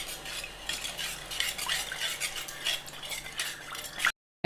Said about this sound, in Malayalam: നമ്മൾ നല്ല മിക്സ് ചെയ്തെടുക്കുക